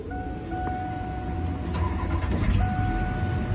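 Duramax turbo diesel engine on a short bus cranking and catching, a steady close idle rumble building over a few seconds with no talk.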